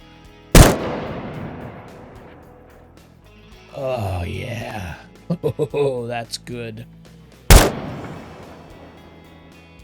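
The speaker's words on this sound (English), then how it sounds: "But anyway, listen to this rifle." Two sharp, loud rifle shots ring out in the video game SCUM, several seconds apart, each followed by a booming echo tail; someone talks briefly in between.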